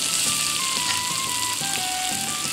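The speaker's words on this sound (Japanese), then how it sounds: "余熱で焼きましょう。" A steak in a lemon steak dish cooks in residual heat on a hot plate, giving a steady, dense sizzle and crackle throughout, loud and close, with no talking.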